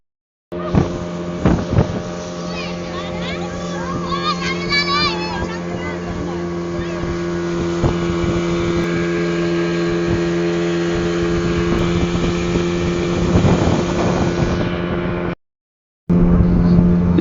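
A speedboat engine drones steadily across the Meghna River at Ilisha, Bhola, with wind buffeting the microphone, a continuous loud roar that cuts out briefly near the end.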